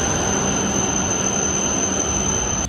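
A Shinkansen high-speed train stands at a station in Japan, giving off a steady broadband rumble with a thin high-pitched whine held over it, ending in a short sharp noise.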